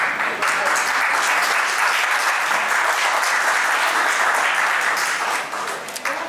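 Audience applause fills a hall at a 10th class school reunion during speeches, a loud, sustained crowd of clapping hands close by that thins near the end.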